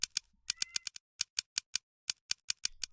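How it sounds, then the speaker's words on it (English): Rapid clacking keystrokes resembling a typewriter in the game Steins;Gate, about fifteen sharp, dry clicks in irregular bursts with short gaps, close and crisp, no voice. "I begin to type on my phone. It sounds like a typewriter."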